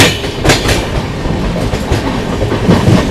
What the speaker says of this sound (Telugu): ఏదో ట్రైన్ అయితే వస్తుంది.